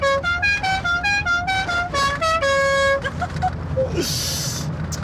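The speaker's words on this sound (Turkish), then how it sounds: "Nasıl korna hoşunuza gitti mi?" A musical car horn plays a rapid tune of short bright honks, loud and close, followed by a hissing burst at the end.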